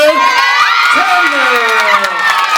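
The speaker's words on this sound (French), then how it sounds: "On applaudit pour elle." At a school cultural day in Thiès, a crowd claps and cheers for a top pastry and catering student, with loud shouts and high children's voices whooping over the clapping.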